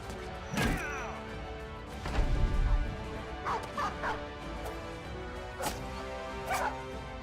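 Dogs in the Battle Brothers game barking and yelping amid combat, several sharp barks and whimpers spaced across the stretch alongside thuds and clashes, fairly close.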